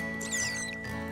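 Cute cartoonish mouse squeaks from a video game, soft high chirps over a steady low electronic hum, faint and brief.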